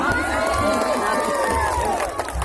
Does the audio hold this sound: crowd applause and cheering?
yes